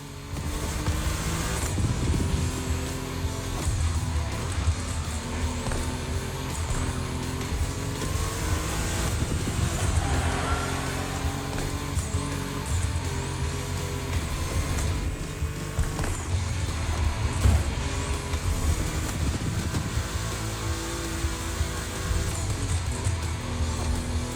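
Volkswagen race cars roar around a track in The Crew Motorfest, loud revving engines rising and falling through gear shifts with tyre noise, several cars close together and continuous for the whole stretch.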